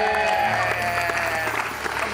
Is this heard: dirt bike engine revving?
no